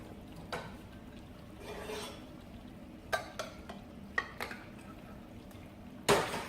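Gari is stirred with water in a bowl, making quiet scraping and stirring with a few soft clinks of the utensil against the bowl and a louder knock at the end.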